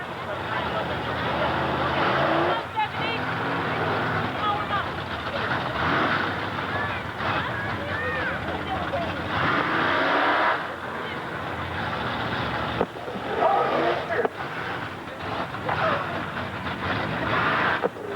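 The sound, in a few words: drag race cars spinning tires in a burnout before the start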